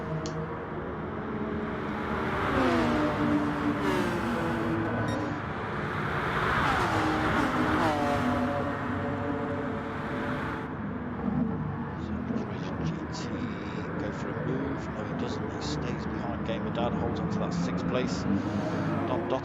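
Gran Turismo race cars, including a Porsche and a Lamborghini, roar down the start-finish straight at Fuji Speedway in a Gr3 league race, engines droning loudly and continuously with rising and falling pitch beneath steady commentary.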